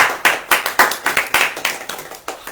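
A church congregation claps hands in a loud, quick, roughly even rhythm, with about a dozen sharp separate claps that fade a little toward the end and no talk over them.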